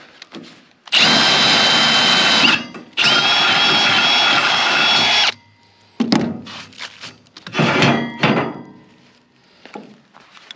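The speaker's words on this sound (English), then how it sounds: "I think my drill's trying to die." A worn, failing cordless drill whines in two long loud bursts, then sputters in shorter uneven spurts with knocking and handling noises between, no voices.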